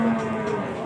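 Cattle being unloaded by traders, with a loud, close moo merged into a busy crowd hubbub of people talking.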